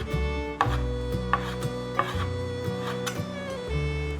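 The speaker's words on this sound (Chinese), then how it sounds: "香菇角的地方切片， 摆整齐，再切成细丝。" Knife chopping fresh shiitake mushrooms into thin strips on a board, a series of distinct close taps roughly every half second over a steady background of music.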